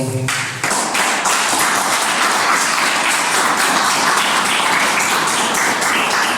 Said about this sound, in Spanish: les pido un fuerte aplauso, por favor